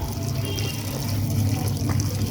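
Running water washes raw chicken meat in a Bengali home kitchen, a steady close splashing and gushing flow that continues evenly throughout with a brief louder surge at the end.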